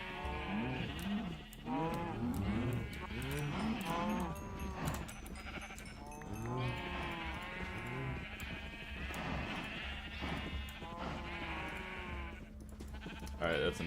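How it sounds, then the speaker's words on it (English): A crowd of cows in the modded Minecraft game Gregtech New Horizons keeps up overlapping bleating moos, loud and continuous, layered over a steady low hum with no pause. "Time to milk the cows."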